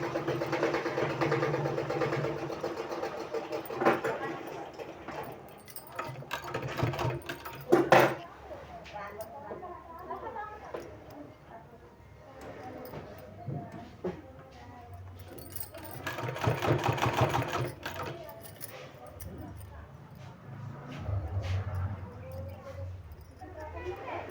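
A sewing machine stitches a decorative neckline design in fabric, its close mechanical whirring and clatter coming in uneven bursts while a person talks over much of it.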